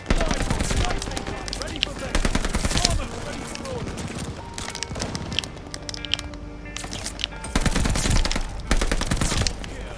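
Rapid bursts of gunfire from shooting practice in a video game, with dense volleys at the start and again near the end and sparser shots between, heard close and loud.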